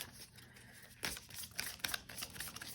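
A rose petal finish tarot deck is overhand shuffled, giving soft, irregular papery slaps and riffling flicks of cards in quick bursts, faint and close.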